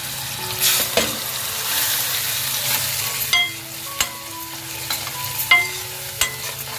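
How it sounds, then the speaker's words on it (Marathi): A ground masala paste of Kashmiri chilli and tomato sautés in a pan, a close frying sizzle broken by spoon scrapes and taps against the pan as it is stirred. "काश्मीरी मिरची आणि टमाटाची पेस्ट केलेली ती घालून घेते वाटप केलेला मसाला"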